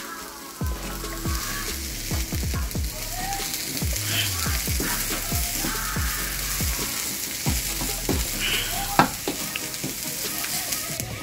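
Rice with thawing frozen vegetables fries in a pan while a utensil stirs it, producing a continuous close sizzle broken by repeated scraping knocks at an irregular, fairly brisk rhythm, with no talking heard.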